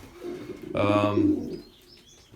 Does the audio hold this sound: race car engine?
no